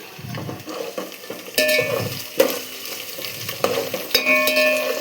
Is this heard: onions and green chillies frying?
yes